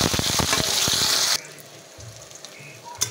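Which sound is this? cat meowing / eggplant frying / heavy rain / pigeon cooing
eggplant frying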